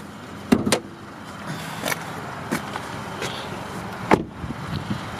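A white 2014 Kia Soul's car door shuts with a solid double thump early on, followed by a few lighter clicks and knocks and another firm thud, all over a steady background hum with no talking.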